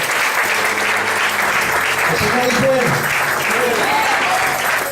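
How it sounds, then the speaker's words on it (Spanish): A church congregation claps in praise during a Sunday service, sustained loud applause throughout while a voice speaks over it. "Dele palmas al Señor"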